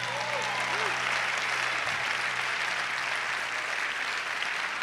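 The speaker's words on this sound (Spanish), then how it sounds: "Alguien tiene que aplaudir con más fuerza." Audience applause fills a church during a sermon, a steady broadband clapping wash that holds evenly throughout, with faint voices murmuring underneath.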